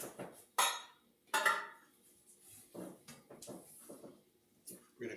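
Cheddar and pepper jack cheese stirred into mac in a pot, with a spoon clinking and scraping against the metal in scattered bursts and a few louder knocks.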